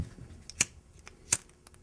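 Scissors snipping a leather knife-sheath lace, two crisp close cuts about a second apart, quiet in between.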